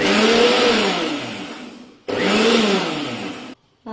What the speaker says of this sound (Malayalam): ഇത് മിക്സിയുടെ ജാറിലിട്ട് പൊടിക്കാൻ പോകാം